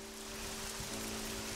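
Rain falls in the video game Memento Mori, a steady soft hiss of drops with a faint low tonal hum beneath, brief and unbroken with no voices.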